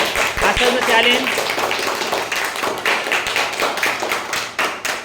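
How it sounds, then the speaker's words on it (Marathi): Students clapping for a classmate in a classroom, a loud continuous round of applause lasting several seconds with voices mixed in. "त्याचं सुद्धा या ठिकाणी टाळ्या वाजून तुम्ही स्वागत करायचं आहे आणि त्याचं अभिनंदन करायचं आहे।"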